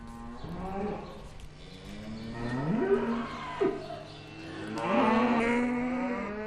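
Healthy Angus cow in a cow-calf operation with her calf, lowing in several drawn-out, fairly close moos that rise and fall across the stretch.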